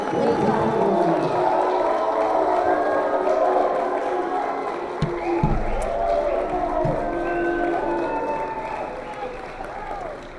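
A debate audience at the Burnaby South by-election reacts with loud, sustained crowd noise of cheering and booing, a continuous roar with a few sharp bursts midway, fading slightly toward the end.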